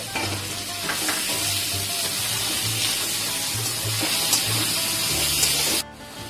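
Vegetables with green peas and carrots stir-fry in a pan for vegetable fried rice, giving a loud continuous sizzle with stirring scrapes throughout, ending abruptly near the close.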